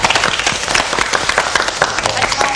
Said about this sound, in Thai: ดีมากเลยเป็นเรื่องที่ทุกคนต้องปรบมือให้